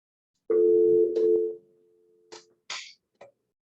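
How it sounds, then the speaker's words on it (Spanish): A telephone sounds during an online job-readiness class: a loud sustained tone about a second long, followed by a few shorter electronic bursts, then quiet. "acá tengo está sonando el teléfono, pero obviamente no puedo contestar"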